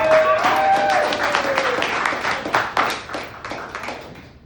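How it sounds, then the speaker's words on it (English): Comedy club audience in Baton Rouge clapping and applauding as a comedian takes the stage, a dense burst of claps that gradually thins out and fades. "No, you gotta keep clapping."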